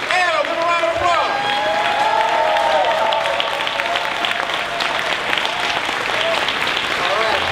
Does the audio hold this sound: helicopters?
no